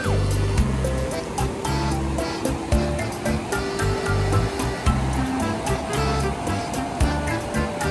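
River water heavily overflowing at a riverside near Sanapur, Hampi, a loud continuous rush with repeated pulsing surges and no voices.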